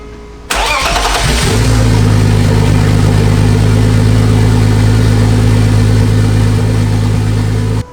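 A BMW E46 engine with a 3-inch straight-pipe exhaust cranks and catches, then settles into a loud, steady idle that hums on without a break until it cuts off.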